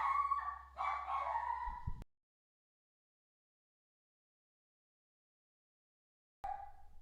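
A pet dog barks in a quick cluster of yaps at the start, then falls silent for several seconds before a short bark returns at the very end; the barking is close but recorded at a low level.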